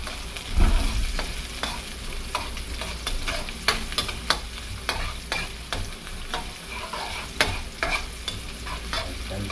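Onion, garlic and chili frying together in oil, a constant dense sizzle broken by frequent sharp clicks and scrapes of a spatula stirring against the pan.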